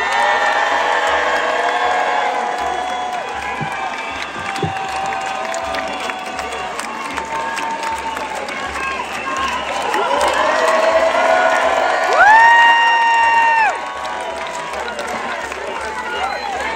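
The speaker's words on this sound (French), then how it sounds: "Je vais vous demander de faire un tonnerre d'applaudissements pour la rédaction du média Blast." An audience at a rally for the Freedom Flotilla and the end of the Gaza blockade applauds and cheers loudly for a media newsroom, with sustained clapping, whoops and shouts building and then easing off slightly.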